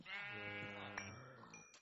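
A single sheep in the Minecraft video game lets out a wavering, drawn-out bleat, clear and close but fairly quiet, with a short click near the end.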